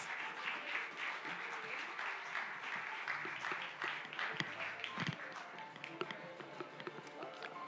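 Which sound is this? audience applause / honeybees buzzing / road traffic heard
audience applause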